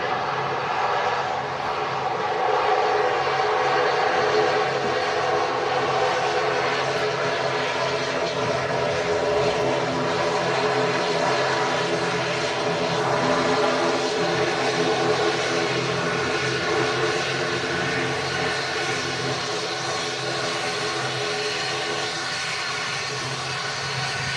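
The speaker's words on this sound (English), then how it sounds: "Aer Lingus regional touching down." An Aer Lingus Regional turboprop touches down in strong crosswinds at Manchester Airport, its propeller engines droning loud and steady for the whole stretch, with no pauses.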